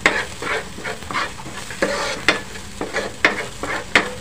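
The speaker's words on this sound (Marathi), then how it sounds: "आपल्याला हा कांदा चांगला ब्राउनिश करायचा आहे" Onions frying in a pan for anda ghotala, being stirred with sharp rhythmic spatula scrapes and clacks over a continuous close sizzle, no talking.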